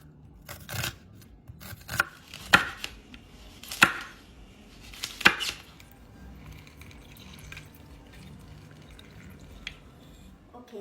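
Ingredients for a Jaffna crab curry being smashed together in a bowl, with about five or six sharp, close thuds spaced a second or so apart, then quieter squishy mixing.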